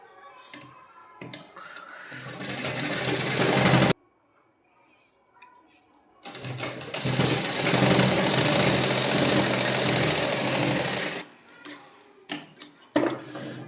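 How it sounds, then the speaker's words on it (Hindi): A sewing machine runs in two long bursts of steady mechanical whirring while stitching fabric for a six-month-old baby girl's fancy dress, with short stops and a few clicks between runs. "और इस पे ऐसे सिलाई चला देंगे।"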